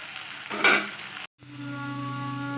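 Beetroot slices fry in a pan with a steady, close hiss and a sharper burst of crackling. A brief silence follows, then a softer sizzle returns alongside a low steady hum.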